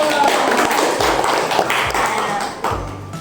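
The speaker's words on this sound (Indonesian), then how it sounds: "Tepuk tangan dulu." Students in an Indonesian micro-teaching classroom lesson clap together on cue, a brief patter of claps with a few sharp taps and thuds standing out close by.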